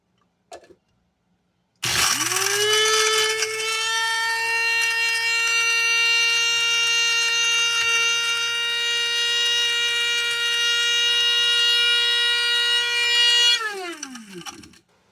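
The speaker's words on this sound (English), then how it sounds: "I'm going to try this little grinder this time with not breaking them up and see how it does." A small electric grinder whirs up and holds a loud, steady high-pitched whine as it grinds whole dehydrated peppers into powder, then winds down after about twelve seconds, with a brief click before it starts.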